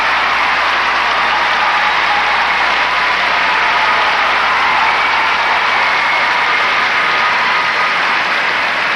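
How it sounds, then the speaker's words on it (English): A figure skating arena crowd at the 1991 World Championships cheers and applauds in a loud, steady, continuous roar that fills the space throughout. "Listen to the crowd."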